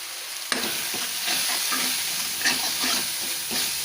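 Paneer frying with chilli powder and coriander powder in oil, a steady close sizzle broken by repeated scraping stirs of a spoon against the pan.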